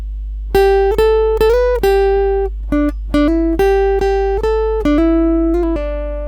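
A plucked Kala ukulele solo played quickly, notes sliding up and down between pitches, bright and close, with short gaps between phrases and no voices.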